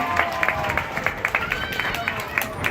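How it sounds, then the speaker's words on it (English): Applause for the dolphins Cosmo and Chopper at an outdoor show at Gulfarium Marine Adventure Park in Destin, Florida: scattered crowd clapping with sharp irregular claps over a busy background of crowd noise and murmuring voices. "let's go ahead and give both of them a big round of applause"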